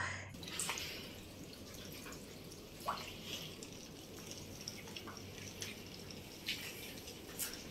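Water leaks into a flooding house and drips at scattered intervals against a quiet, hissing background. The drops are faint, irregular and distant, with no talking.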